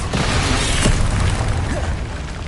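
A Confringo blasting curse explodes in the Hogwarts Legacy video game, a loud, dense booming rumble that fills the whole moment with crackling debris.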